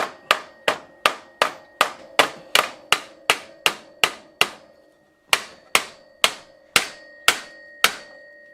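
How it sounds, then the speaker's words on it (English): A nylon hammer strikes the handlebar of an old Gazelle Solide bicycle in a rapid, even series of about twenty sharp knocks, with a short pause partway through before the blows resume. "I actually managed to dent the handlebar when I hit it with the nylon hammer"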